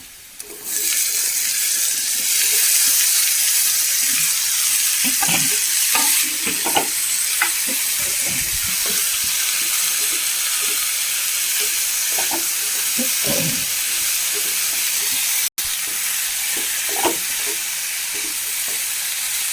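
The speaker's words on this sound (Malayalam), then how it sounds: "നമുക്ക് ഇടുക്കി വഴുതനങ്ങ ഇട്ട് കൊടുക്കാം" Brinjal slices from Idukki hit a hot pan with salt and well-fried chillies, setting off a loud, steady sizzle of frying with scattered crackles and pops and some stirring, no voices.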